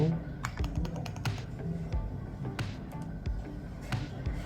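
Quick, close clicks of keys on a computer keyboard as contact details are typed, a steady patter of taps heard under a person speaking.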